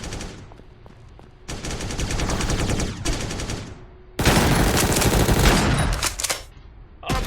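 Shotgun fire in a mobile shooting game, loud and close, coming in two long dense bursts of rapid blasts separated by quieter gaps.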